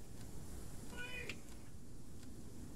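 A single brief cat meow rises faintly over a steady background hiss, then fades into quiet room noise.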